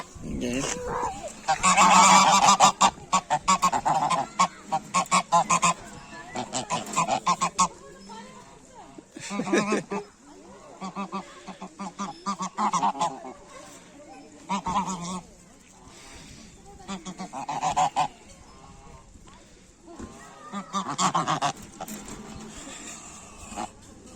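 Geese at a zoo in Ştip honk loudly and repeatedly in bursts, several birds calling close by, with short pauses between the honking runs.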